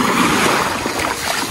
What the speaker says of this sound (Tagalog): Malakas po yung agos ngayon, yung alon.